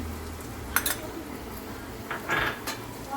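Carrots going into ready hot oil in a pan for Jain hakka noodles: light clinks of utensils against the pan, a brief rustle and soft sizzle, fairly quiet and without talk.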